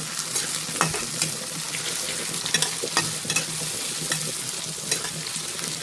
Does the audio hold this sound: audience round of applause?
no